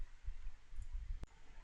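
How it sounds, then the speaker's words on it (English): A single crisp mouse click as a button is pressed in image-generation software, short and fairly quiet, standing out once against a low, steady room hiss. "I'm just going to click on this button"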